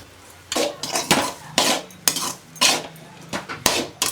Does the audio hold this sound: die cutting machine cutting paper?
no